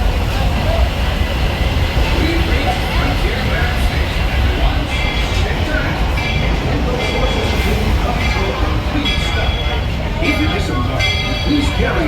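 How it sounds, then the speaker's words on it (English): A Walt Disney World Railroad train pulls into Frontierland station with a constant loud rumble and rattle of cars, while a recorded announcer speaks over the noise throughout. "As we arrive into the station, please remain seated until the train has come to a full and complete stop."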